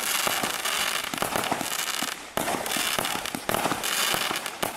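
Aldi consumer fireworks go off in a fast, irregular string of sharp bangs and crackling bursts, loud and fairly near, continuing through the whole stretch with no talking.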